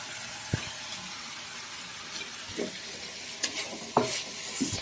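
Spring onions and celery are tossed in a hot pan under a soft, steady sizzle. A spatula scrapes and taps now and then, up close and with no voices.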